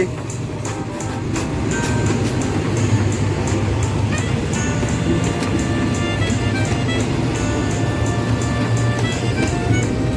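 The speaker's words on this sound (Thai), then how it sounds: "ตอนนี้เรามาเจอรถไฟแล้ว" A train rumbles past nearby for several seconds, steady clattering of wheels on track with a continuous low roar.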